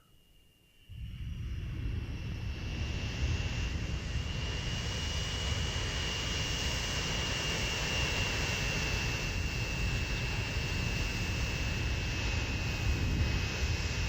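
A jet airliner in the Transport Fever simulation game roars up from near silence into a steady, loud engine rush with a thin whine on top, holding unbroken for over ten seconds.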